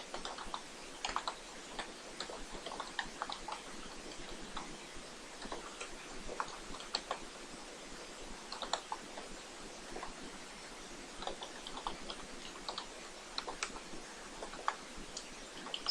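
Steady, quiet computer keyboard typing as a program is entered, with rapid irregular key clicks running continuously and no talking.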